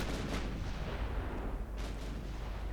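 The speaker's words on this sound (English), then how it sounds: "I want to set my 11-inch guns on that battleship" Heavy 11-inch naval guns firing on a battleship in Ultimate Admiral Dreadnoughts, a loud broadband boom with a second blast near the end, alone with no talk.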